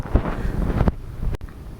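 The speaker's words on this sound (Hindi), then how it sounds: "आज हवा भी चल रही है लेकिन इस तरह की ठंडी हवा नहीं है, वो जो शायद शिनूक कहते हैं तो वही हवा चल रही होगी।" A warm Chinook wind buffets the microphone outdoors in winter, loud rumbling gusts that drop off abruptly, then a quieter stretch with another brief gust; no voices.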